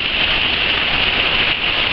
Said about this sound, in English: of rain in the air as it is coming down so hard.